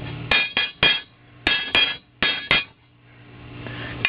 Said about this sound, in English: It's more rattled because it's sitting on the other pipes